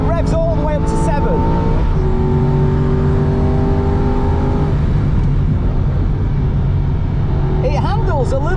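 An Aston Martin V8 Vantage racing car onboard at the Nürburgring, its V8 engine loud and close as it revs high through the gears, with sustained rising tones and shifts, while voices speak over it.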